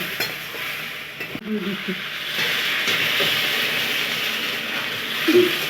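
A pan of vegetable curry with ridge gourd, potato and eggplant hisses and sizzles steadily as water is added. The hiss holds fairly loud and even, with a few soft stirring knocks.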